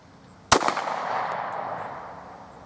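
A single sharp shot from a Raven Arms MP-25 pistol cracks out loud and close, followed by a long fading echo that lingers for about two seconds.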